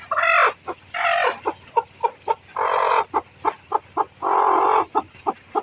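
A native hen sitting on eggs clucks loudly and insistently up close, short sharp clucks alternating with long drawn-out protesting calls.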